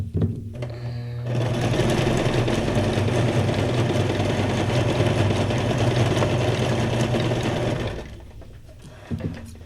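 A sewing machine runs steadily for several seconds, a loud continuous whirring drone, then winds down and stops near the end.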